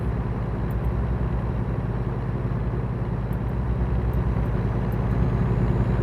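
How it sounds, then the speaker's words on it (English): Steady, loud truck engine drone in American Truck Simulator, heard from outside the cab as a constant low rumble without variation or talk. "being outside of the truck allows me to hear the full engine"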